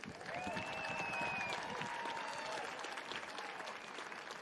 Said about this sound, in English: Please join me with applause once again to thank Mr.